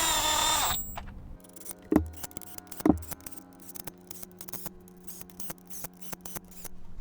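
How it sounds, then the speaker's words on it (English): Bolts being cinched down on a skid steer, heard as close, scratchy ratcheting clicks in quick bursts with two heavier clanks early on, following a brief loud hiss at the start. "I'm just gonna cinch these down."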